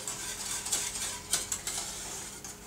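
A spoon scrapes and stirs chocolate flan mixture around the sides and center of a saucepan, soft irregular clinks and scrapes close by over a faint steady hiss.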